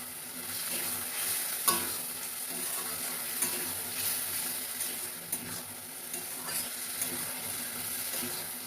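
Fish frying in oil with ginger paste being stirred in a pan, a soft steady sizzle with occasional scraping clicks of the spoon, fairly quiet and close, no talking.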